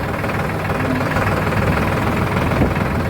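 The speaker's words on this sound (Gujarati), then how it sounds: "તમને ટ્રેક્ટરનો અવાજ આવતો હોય છે" A loud, steady tractor engine idles and rumbles close by, heavy and unbroken throughout.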